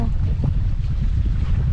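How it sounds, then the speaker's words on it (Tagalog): Strong low rumbling sea wind by the shore buffets the microphone continuously, a loud steady roar with no talking. "Sarap ng hangin oh."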